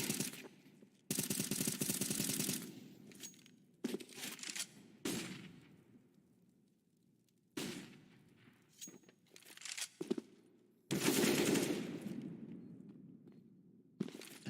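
Bursts of gunfire in a Counter-Strike match, several loud rapid volleys separated by short gaps, with footsteps and quieter game noise between them.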